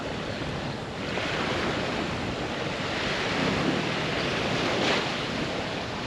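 Strong wind buffets the microphone on a beach in Chania, Crete, a dense continuous roar blended with surf, swelling slightly in gusts around the middle and end.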